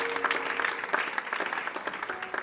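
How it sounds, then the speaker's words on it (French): A church congregation breaks into steady applause, many hands clapping in a dense, lively patter that fills the room at moderate loudness, with no talking over it. "Acclame le Seigneur Jésus-Christ"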